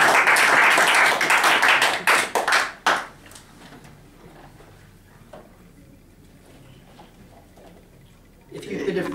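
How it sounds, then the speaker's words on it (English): An evening audience at a gathering breaks into loud, dense clapping that thins into scattered claps and fades after a few seconds, followed by quiet room noise and a voice returning at the end. "Come on, give them a clap."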